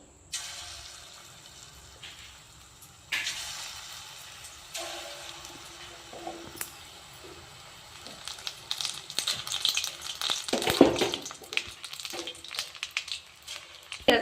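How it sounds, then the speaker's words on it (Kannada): Okra kebab fritters fry in hot oil, a steady crackling sizzle that swells and grows denser and louder partway through, with sharp spits and pops near the end and nobody talking. "ಎಣ್ಣೆ ಕಾಯ್ದದ ಬಿಟ್ಕೋತೀನಿ ಒಂದು"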